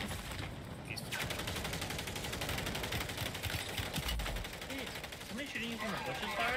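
Sustained rapid gunfire in Call of Duty: Warzone rattles on steadily throughout, moderately distant and fairly quiet, with a voice speaking briefly under the shooting.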